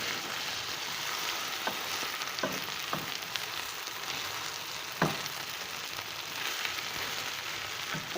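Potatoes fry with garlic and chilies in a Sindhi-style dish, making a soft, steady sizzle with a few faint clicks of stirring and no talking.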